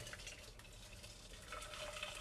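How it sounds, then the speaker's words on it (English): Hot boiling water pours into a saucepan on a stove, a quiet steady stream of liquid filling the pan without pause. "I'm going to get some hot boiling water, pour this into my saucepan like this"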